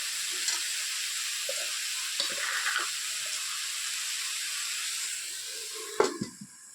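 Banana peel frying in a pan with turmeric and salt gives a steady soft sizzle with occasional light scrapes, closing with a sharper clatter near the end.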